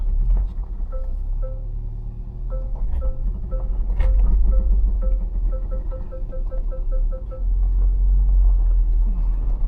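A 2026 Toyota Tacoma TRD Off-Road Hybrid pickup creeping slowly over rough off-road terrain with a tire lifted, producing a low, steady engine and drivetrain rumble with faint tonal whine and occasional knocks from the chassis.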